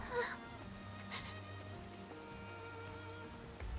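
Rain falls in a NIKKE video game scene as a soft, continuous hiss beneath a swelling musical score, with a few brighter splashy bursts near the start.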